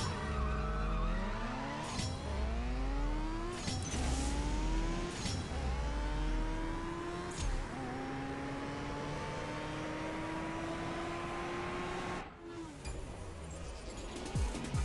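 Racing car engines rev and shift through gears in a CSR2 drag race, with repeated rising engine pitches, tire squeal and a close, loud roar that carries on throughout before a brief drop near the end.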